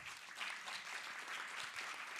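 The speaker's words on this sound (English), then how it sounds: "Let's give them a round of applause." Audience applause for a conference panel on climate-smart agrifood systems, a dense run of clapping heard from a distance and fairly faint, steady throughout with no speech.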